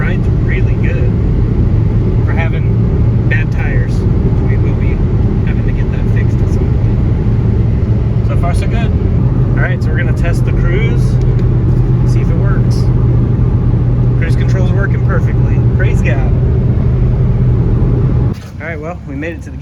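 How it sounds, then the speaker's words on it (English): Steady interior rumble of a stock Honda car driving on worn tires, a constant low drone with road noise throughout, people talking over it, ending with a brief drop in level near the close. "So that's what stock Hondas sound like."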